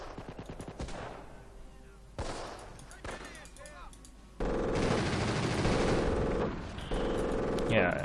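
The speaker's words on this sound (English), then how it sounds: "at least now the mortar is hitting something" Battle in the video game Company of Heroes, with rapid machine-gun bursts and rifle fire crackling throughout and heavier mortar impacts thudding in. The fire grows denser and louder toward the end, with a voice talking faintly beneath it.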